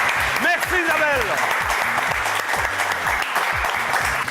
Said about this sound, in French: qu'on va encore applaudir une fois très fort